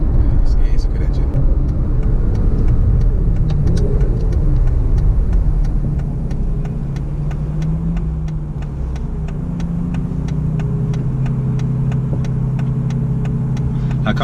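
An Aston Martin Vanquish Volante engine drives with a steady deep rumble and shifting tone as the car slows, heard close from inside the cabin.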